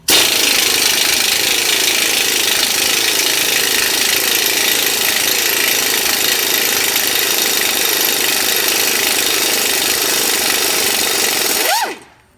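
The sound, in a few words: 3/8 inch power tool driving tow hitch bolts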